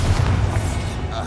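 Confringo fire spell from Hogwarts Legacy bursts with a loud, broad boom that fills the short moment, rolling off quickly into a rumbling tail.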